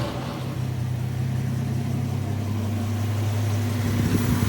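A Studebaker truck engine idling after a cold start, a steady, loud, close rumble that holds an even low hum throughout without voices.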